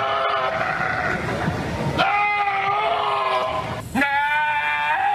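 A goat bleats in long, wavering cries, several calls in a row that sound close and loud, with no talking over them.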